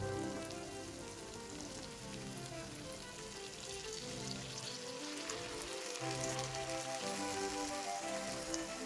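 Boiled chickpeas go into a pan of spice masala frying for chana masala, giving a steady, close crackling sizzle like rain that holds evenly throughout with no one talking.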